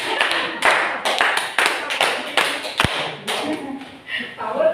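Hands clapping in a counted classroom clapping game, a rapid run of sharp claps from several people nearby, with voices mixed in and a couple of louder thumps.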